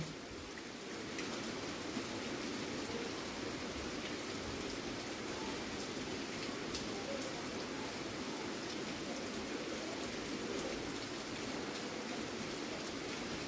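Potato fingers deep-fry in hot oil in a wok, making a continuous, even hiss like steady rain that stays unbroken throughout. The sizzle is fairly faint, and no one speaks.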